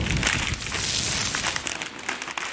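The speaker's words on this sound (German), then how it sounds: "Das ist nämlich eine kleine Papiertüte" A small paper bag used as product packaging is handled, giving close, loud, continuous crinkling and rustling that breaks into sharper scattered crackles toward the end.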